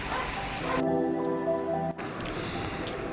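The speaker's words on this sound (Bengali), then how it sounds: "ওদিকে সব কুকুরগুলো ডাকছে।" Dogs at a nearby scout ground bark and yip during a rainstorm, a run of tonal barks carried over the steady hiss of heavy rain, with the downpour continuing alone afterward.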